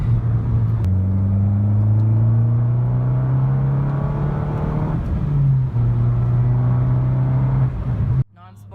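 Car engine pulling under acceleration on a test drive after a tuning tablet install, a steady droning rumble whose pitch climbs gradually, drops at a shift, then climbs again before cutting off.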